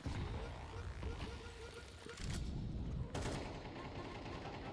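Desert Eagle pistols fire during a Counter-Strike 2 playoff match, with rapid overlapping shots, bursts and mechanical clicks amid busy game noise; the gunfire drops briefly before resuming loudly.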